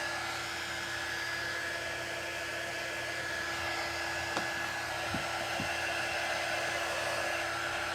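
A hair dryer blows steadily while drying a coat, a continuous broadband whoosh with a steady whine, close and loud, with a couple of brief clicks near the end.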